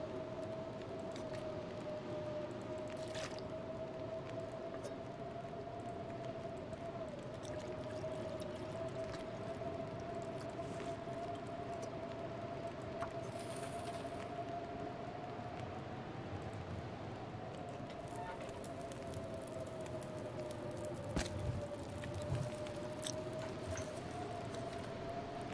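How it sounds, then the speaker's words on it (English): Storm outside a shelter in The Long Dark: a steady low wind roar with a sustained whistling howl running throughout, muffled and constant, with no speech. "I can hear the storm outside."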